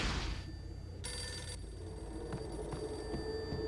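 A telephone in the Max Payne video game gives one short, bright metallic ring over a low background hum. Faint clicks follow.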